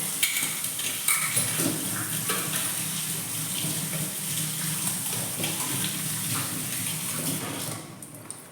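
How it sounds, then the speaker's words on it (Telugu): Steady tap water runs into a kitchen sink while a plate is washed, a continuous close splashing hiss that holds for several seconds before easing off at the end. "ప్లేట్ కడుక్కొస్తా."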